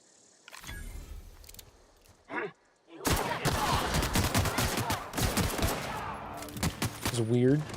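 Assault rifle fire in a video game breaks out as loud, dense bursts of shots after a few quieter clicks and movements, then continues steadily with game sounds layered over it.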